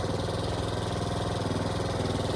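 A DR rototiller's small engine runs steadily at throttle, a close, loud, buzzing chug with constant pulsing and no pauses.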